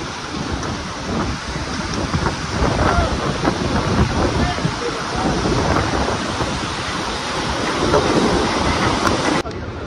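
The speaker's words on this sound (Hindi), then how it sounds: "इतनी हवा चल रही है।" Strong wind roars steadily across a bridge over a river on the Hemkund Sahib trek near Govind Dham, a loud, continuous gusty rush buffeting the microphone, with no pauses.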